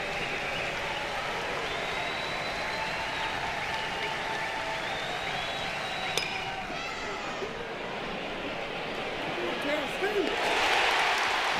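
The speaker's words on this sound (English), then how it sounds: "A standing ovation for the Tigers as they come off the field, having defended in a critical situation." Stadium crowd at a college baseball game gives a standing ovation, sustained applause and cheering throughout, with a brief sharp clink midway and the roar swelling near the end.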